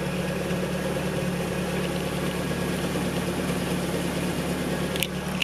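A 1992 Toyota Townace 4WD camper van's engine idling with a brand new muffler, a low, even, quiet hum held steady throughout, heard close with no talking.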